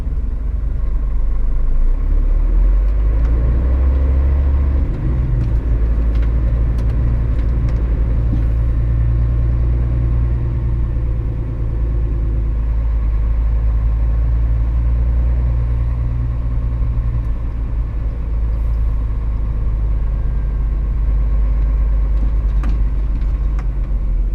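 Heavy truck engines rumble steadily and loud for the whole stretch, a deep continuous drone as a convoy of 18 trucks rolls through narrow back streets, with no voices over it.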